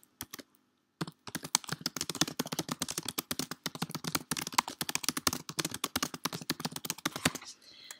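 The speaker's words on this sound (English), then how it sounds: "I'm going to type what the email is going to be about." Rapid, steady typing on a computer keyboard while composing an email subject line, a dense run of close, crisp key clicks after a brief pause, with no talking.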